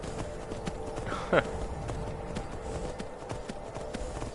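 Steady hoof clip-clop of a galloping horse in Skyrim VR, a continuous rhythmic beat running through the whole stretch with a brief louder burst partway, heard without other voices.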